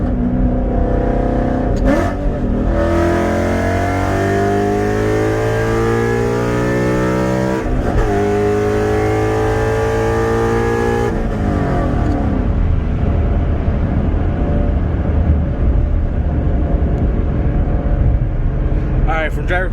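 A Ford Mustang fitted with a new Exedy twin-disc clutch, revving hard and close: loud, sustained engine climbing in pitch through repeated accelerations and gear changes, then settling into a rough rumble.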